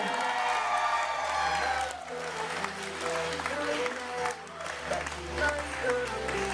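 Wedding guests applauding steadily at the Larz Anderson Museum in Boston, a sustained wash of clapping with scattered cheers and voices mixed in, while music plays underneath.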